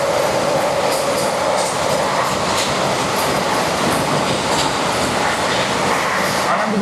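The 20801 Magadh Express passenger train running on tracks, a loud steady rumble with rhythmic wheel clatter and occasional metallic squeal, heard from on board.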